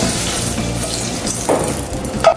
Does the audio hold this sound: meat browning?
yes